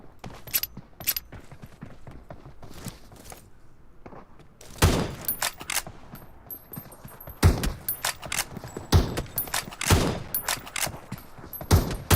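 Gunfire in the PUBG Mobile battle royale game, repeated sharp shots in short bursts and single cracks, louder clusters in the second half over a quieter game background.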